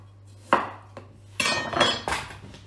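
A knife cuts potatoes on a board in a home kitchen, giving a handful of separate, near chops and scrapes spaced irregularly over a few seconds, with a steady low hum underneath.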